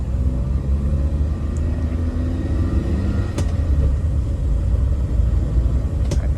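A Nissan Sunny B11 out on a test drive, its engine giving a steady low rumble under road and cabin noise throughout, with a couple of faint clicks and no voices.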